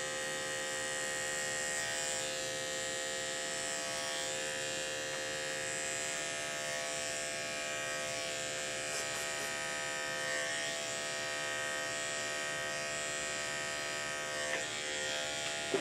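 Electric pet clippers trimming a Schnauzer's eyebrows give a continuous close, buzzing motor hum that runs steadily for the whole stretch, with only slight changes as the blade works through the fur.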